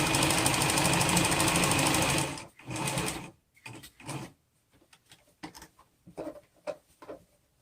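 A sewing machine stitches together the pieces of a homemade fabric face mask, running in a steady loud burst for about two seconds, then stopping and starting in several shorter bursts and clicks.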